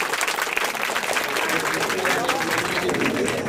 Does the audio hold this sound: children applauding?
yes